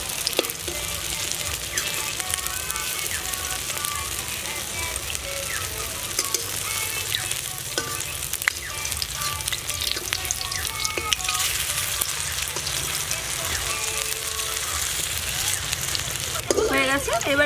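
Taro-leaf fritters frying in a pan, a continuous hiss and crackle of hot oil, steady and close, with occasional stirring clinks and a voice talking over it.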